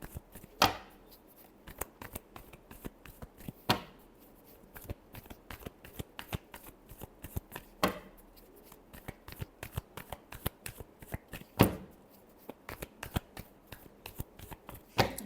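Tarot cards are shuffled by hand in quick, repeated riffles and taps, crisp and close, with sharper slaps every few seconds and no talking.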